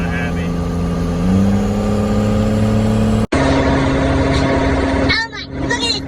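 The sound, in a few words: diesel truck engine revving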